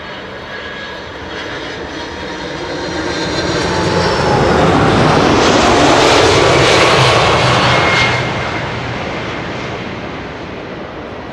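A 23-year-old airliner arriving at Amsterdam Schiphol's Kaagbaan runway roars overhead, its engine noise swelling to a loud broad rumble at the pass and then slowly fading, with no talk.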